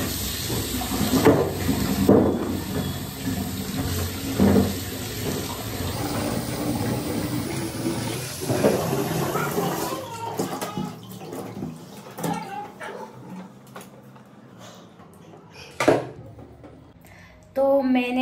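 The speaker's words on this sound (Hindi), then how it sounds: "तो मैंने डोगा धो दिया है।" A clay pot is washed under a running tap, the water splashing and gushing at close range with clatters of the pot against the sink, then thinning to quieter trickles and drips.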